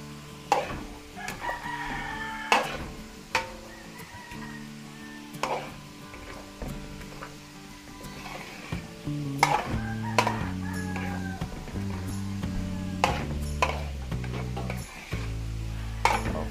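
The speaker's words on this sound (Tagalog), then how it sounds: "Haluin lang po natin." Stirring a simmering Filipino beef caldereta sauce in a pan, with a steady sizzle and repeated sharp clinks and scrapes of the utensil against the pan, close and fairly loud, with no talking.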